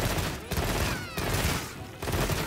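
Rapid bowgun fire in the Monster Hunter Wilds beta, a dense fusillade of repeated shots in bursts separated by brief pauses, loud and close, with game effects layered underneath.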